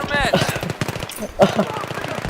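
In Battlefield 3, an AEK rifle fires rapid bursts of automatic gunfire, sharp and close, with someone talking over the shots.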